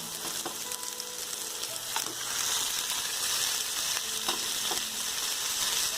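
Spices sizzling and crackling in a hot pan for prawn curry, with a few sharp clicks of stirring against the metal; steady and close.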